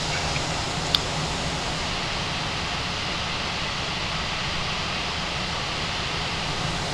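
A simulated aircraft engine in Microsoft Flight Simulator drones as a steady, loud, even roar with a constant low rumble and no change in pitch, heard from outside the plane.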